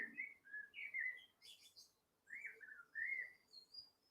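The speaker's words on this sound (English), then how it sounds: "Apologies for the birds outside." Birds sing outside a window, faint and distant, with several short whistled chirps and warbling calls in small groups and quiet pauses between them.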